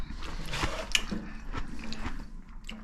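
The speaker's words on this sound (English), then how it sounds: "I've been eating grapes and potato chips." Close, crisp crunching and wet biting of kettle-cooked potato chips and sweet grapes being eaten, with irregular bites and chews running steadily through the moment.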